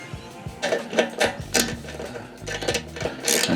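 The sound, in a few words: torquing bolt with torque wrench on Kawasaki fuel pump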